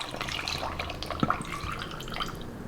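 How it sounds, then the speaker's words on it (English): Room temperature water is poured into a blender for a mango smoothie, giving a soft, continuous splashing and trickling over nearly three seconds, with a couple of brief drip-like plinks. "Now I'm going to add the water."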